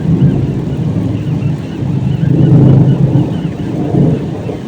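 A heavy storm roars continuously, low thunder rumbling in swells beneath wind buffeting and steady rain, loud and close.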